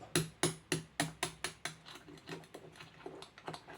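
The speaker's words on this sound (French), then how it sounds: "Et là, je vais prendre une clé. Je vais me mettre derrière le roulement. Et je tape comme ça." A metal wrench taps against the back of a bearing in a Dantherm HCV500 double-flow ventilation unit: about ten sharp, ringing metallic knocks in a steady rhythm, loud and close at first, then lighter and fainter.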